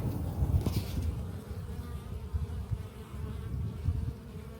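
Italian honeybees buzz steadily around a hive, a dense droning hum with a faint outdoor background.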